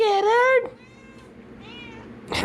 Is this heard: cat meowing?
yes